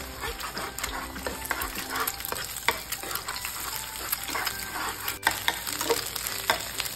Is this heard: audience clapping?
no